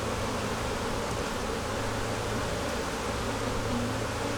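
Honey bees buzz steadily at a hive in a beekeeper's nucleus colonies ahead of making splits, forming a dense, continuous hum close by with no talking.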